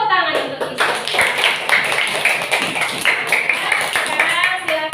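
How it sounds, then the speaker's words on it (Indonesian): A school class clapping hands for a student in an Islamic ethics lesson, a rapid run of close claps from a small group, with a teacher's voice talking over part of it. "Tepuk tangan untuk Isa"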